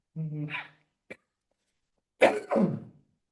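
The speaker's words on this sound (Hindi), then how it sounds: "एक खांसी लगी हुई है, जान नहीं छोड़ रही है।" A short voiced burst and a small click, then two harsh coughs in quick succession, fairly close.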